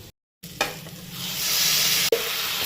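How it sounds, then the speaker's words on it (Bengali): Maggi noodles with masala being stirred in a pan, a steady soft scraping with a low sizzle underneath, close by, with a couple of sharper knocks of the utensil against the pan. "এদিকে ম্যাগি মশলা আবার ভালো করে লাইয়া নিই"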